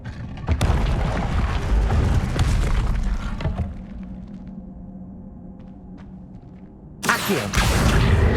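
A Confringo blasting spell explodes in the video game Hogwarts Legacy: a loud, deep, rumbling blast that fades to a quieter tail, then a second powerful burst erupts near the end.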